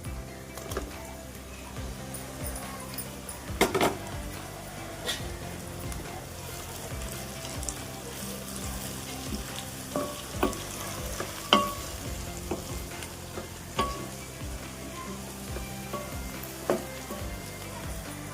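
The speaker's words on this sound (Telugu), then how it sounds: "రెండు ఉల్లిపాయలనండి నాలుగు పచ్చిమిరపకాయలు ఒక టమాటా తీసుకున్నానండి అవి ఫ్రై చేస్తున్నాను" Sliced onions, green chillies and tomato fry in a pan with a steady crackling sizzle, broken by frequent scraping clicks as a spoon stirs them.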